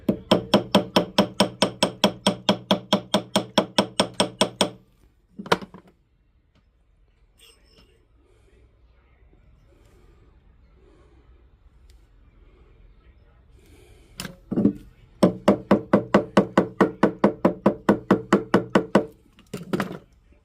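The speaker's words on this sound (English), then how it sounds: "Now we're just beating with the ball peen hammer" Rapid, evenly spaced ball peen hammer taps on metal in two long bursts, loud and close, separated by a quiet stretch with a few isolated knocks.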